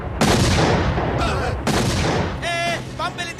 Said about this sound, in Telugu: బాంబ్ బ్లాస్ట్ అవుతా హై